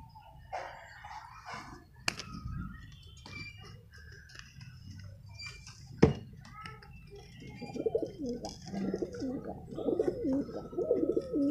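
Racing pigeons cooing nearby, low soft coos building and growing busier toward the end, with a couple of sharp clicks and a faint voice in the background.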